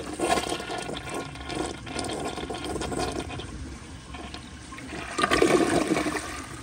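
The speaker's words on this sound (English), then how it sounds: "But here is another flush." A 2001 American Standard Cadet toilet flushes loudly and close up, a rushing gush of water swirling through the bowl, easing off midway, then surging again as the siphon pulls, with no talking.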